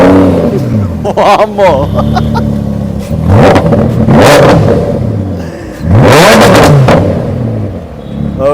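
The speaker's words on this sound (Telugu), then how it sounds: "సో ఒకసారి ఇంజన్ రోర్ విందామా?" A Lamborghini engine roars and revs loudly in repeated surges close by, with several strong rising bursts of revving separated by brief idling, while people talk and exclaim over it.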